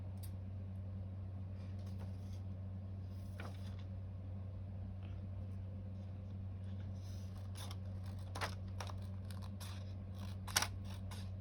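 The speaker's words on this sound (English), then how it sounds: "I'm gonna cut some of it off." Scissors snipping a paper stencil for painting, a few quiet cuts with a couple of sharper snips near the end over a steady low hum.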